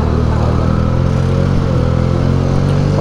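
A Benelli 300 motorcycle engine runs loud and close while riding, giving a continuous throbbing drone with a steady pulsing rhythm and no voices.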